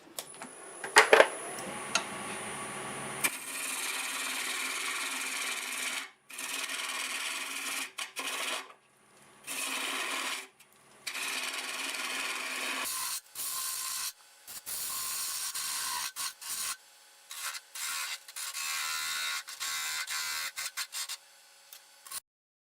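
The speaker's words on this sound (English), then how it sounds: "I guess I'll try my spindle gouge." Spindle gouge cutting a black locust branch on a wood lathe, a steady rasping, hissing scrape in long bursts with brief pauses between passes, close and fairly loud, with no talking.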